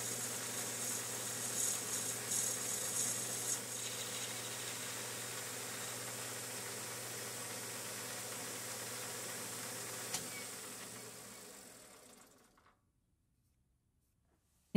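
A metal lathe faces off bushing stock for a model boiler, giving a steady, even machining whir with a faint hum that runs for about twelve seconds, then stops abruptly into silence.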